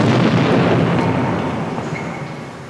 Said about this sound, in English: Galvatron transformed to his cannon shape and blasted Starscream out of existence